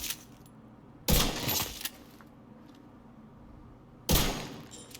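An exotic lever-action rifle firing at targets in the video game The Division 2: two loud, sharp shots about three seconds apart, each with a brief ringing tail over quiet background.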